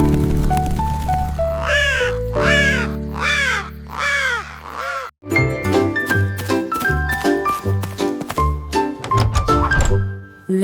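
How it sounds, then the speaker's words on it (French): A chorus of crows caws over a song with backing music, several harsh, falling calls repeating in a steady run near the start before the music takes over. "Un chant de corbeaux"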